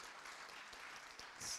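A conference audience at a bioengineering debate claps briefly, a soft, fairly distant patter of many hands that swells slightly near the end.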